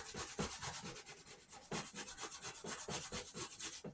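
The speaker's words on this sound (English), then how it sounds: "you have to take the time to grate it" Zucchini rubbed against a grater makes quick rhythmic rasping strokes, steady and close, repeating several times per second with no talk.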